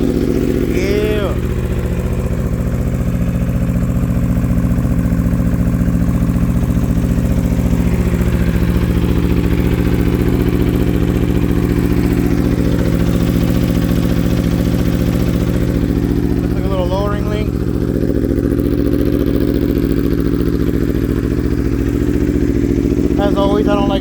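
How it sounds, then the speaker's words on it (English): A 2021 Aprilia RSV4 Factory 1100 sport bike idles just after a cold start, a loud, steady, close engine drone with brief light blips and a few faint squeaks over it. "Let's give it a cold start."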